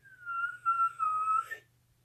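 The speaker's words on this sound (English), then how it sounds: "I'm sucking the air in, which is why I can't really whistle a song or anything like that." A person whistles by sucking air in rather than blowing out. Two or three clear, sustained notes sound close and alone, with a slight pitch dip in the middle before the whistle cuts off.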